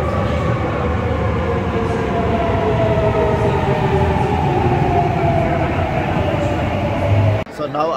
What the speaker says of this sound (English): So now I'm in the Toledo station.